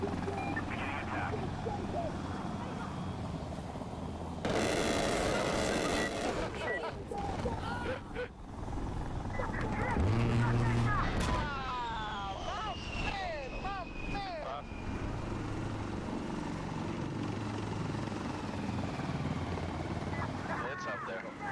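Helicopter strafing run in the shooter game Insurgency Sandstorm, a loud burst of rapid gunfire and rotor roar followed by a whooshing pass and explosions, with voices talking over the action.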